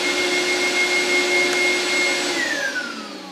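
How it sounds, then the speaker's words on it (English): A dust extractor wired to a contactor runs with a loud, steady vacuum roar and a high whine, then begins spinning down as power cuts, the pitch sliding lower. "dust extractor is pulled in, the two switches are on the dust extractor, and I can just hit the switch and you can see that comes in"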